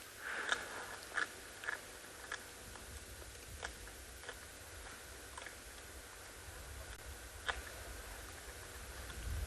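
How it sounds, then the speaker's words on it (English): A wild cat feeds on a kill on a South African safari, giving faint, irregular crunches and bites of bone and flesh against quiet outdoor ambience with no talk. "I can actually hear her crunching away."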